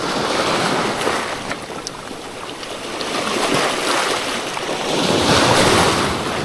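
Ocean surf washes and crashes against nearby rocks in swelling surges on the Marinduque shore, mixed with gusty wind buffeting the microphone, no voices.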